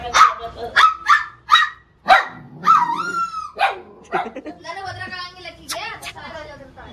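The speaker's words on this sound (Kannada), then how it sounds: "ನಾಯಿ ಬಂದಿದೆ" A dog barks in a series of sharp, close barks and yips, some drawn out into whiny, whimpering tones, with other voices likely nearby.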